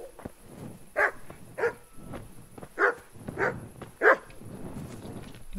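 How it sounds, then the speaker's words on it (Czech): A dog barks about five times in the medieval video game Kingdom Come: Deliverance, with moderately loud, spaced-out woofs over a steady outdoor ambient background. "Tady pes, ten není můj."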